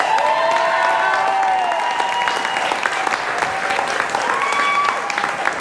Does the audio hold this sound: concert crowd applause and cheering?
yes